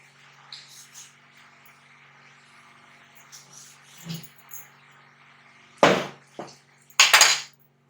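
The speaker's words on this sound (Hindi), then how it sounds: "अब मैं इसके लिए लोइयां काट लूंगी छोटी छोटी सी।" A knife cuts small dough portions for karanji on a kitchen surface: faint scrapes, then a few sharp, close metallic taps and clatters toward the end, with a low hum underneath.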